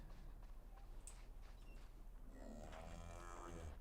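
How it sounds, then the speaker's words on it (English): A cow moos loudly in the RuneScape crafting game, a drawn-out low call rising over the last second and a half above steady in-game ambience and faint footsteps. "That cow is so loud, man."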